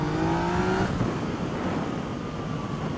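A Yamaha MT09 motorcycle rolls on the throttle in second gear, engine tone climbing steadily before a gear change, then droning on under heavy wind rush.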